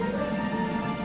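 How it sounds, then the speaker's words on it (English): Heavy rain pours down in a steady, dense wash of drops with no break, close and fairly loud, with a faint tonal hum running beneath it. "What a heavy rain!"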